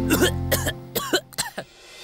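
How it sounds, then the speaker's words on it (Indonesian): Four close, loud coughs in quick succession, ending with a softer throat-clearing rasp. "Tuh kan batuk terus."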